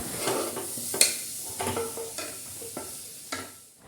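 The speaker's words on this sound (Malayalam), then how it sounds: "വെളിച്ചെണ്ണ ഒഴിച്ചു. ഇനി ഉള്ളി ഒന്ന് വാടി വരട്ടെ കേട്ടോ" Onions softening in coconut oil in a pot give a soft sizzle, broken by a few light stirring scrapes and clinks of a utensil against the metal, quiet and close, with no talking.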